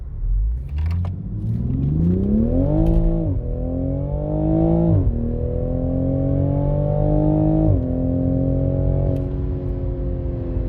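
A Mk5 A90 Toyota Supra engine accelerates hard uphill through several gears, pitch climbing then dropping at each shift, loud and close with a deep rumbling tone.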